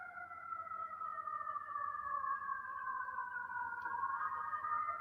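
A siren wails in long, sliding tones that slowly dip and rise, steady and fairly loud over a faint low rumble, with no talk.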